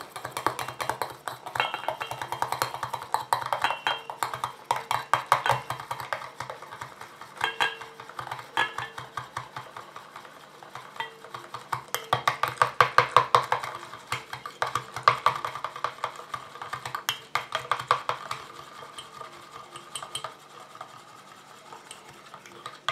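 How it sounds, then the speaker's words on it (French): Oily and aqueous phases being whisked together into an emulsion: a fast, steady clicking and scraping of a whisk against a bowl, in repeated bursts with short pauses, close and moderately loud. "Et je rajoute petit à petit ma phase aqueuse tout en mélangeant."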